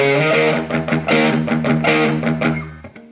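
An electric guitar played through a JK Pedals Sunday Arvo Drive with compression set open, strummed rock chords ringing with a mid-boosted, lightly driven tone, loud and alone, the last chord cutting off abruptly.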